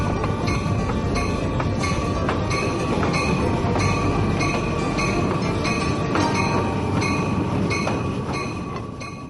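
A heritage train at the Kentucky Railway Museum rolls along the rails with a continuous low rumble and regular metallic clicks and clanks, loud and steady before easing slightly at the end.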